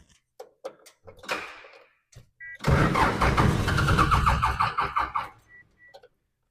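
An old skid steer that had sat unused for years, on a weakening battery, gives a few clicks before its engine cranks in a sustained, labouring churn for about two and a half seconds, then stops, close and fairly loud.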